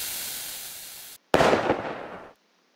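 Fireworks in the video game Fireworks Mania hiss and crackle loudly, cut off briefly, then burst again in a sharp crackling explosion that fades after about a second, with no talk.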